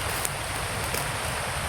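Rain falling as a constant, dense hiss that is close and fairly loud, unbroken for the whole stretch, with no voices.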